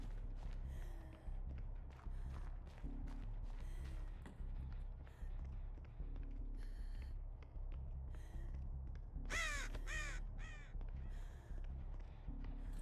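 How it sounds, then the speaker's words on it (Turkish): Crow in the horror game Dead by Daylight, startled into a short burst of loud caws around the middle, heard over a steady low game ambience and music bed. "Kargayı da korkuttuk var ya"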